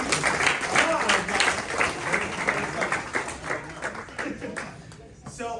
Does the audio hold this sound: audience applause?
yes